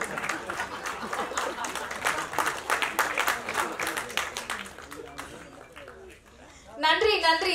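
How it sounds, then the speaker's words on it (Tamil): An audience applauds at a Tamil film audio launch, with a brief swell of claps rising near the end after a stretch of amplified speech and murmur. "ஒரு பலத்த கைத்தட்டல் கேட்கலாம் இந்த சிங்கப்பெண்ணுக்காக"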